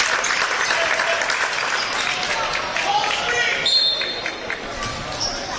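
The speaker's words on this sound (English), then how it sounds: "Abdiel gets a huge hand from the crowd here." Crowd in a high school varsity boys basketball gym applauding a player entering the game, steady loud clapping throughout with a commentator talking over it and faint ball bounces.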